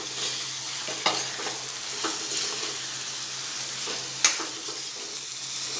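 Marinated vegetables and browned onions for veg dum biryani fry in a pan while being stirred: a steady close sizzle with spatula scrapes and a couple of sharper knocks against the pan.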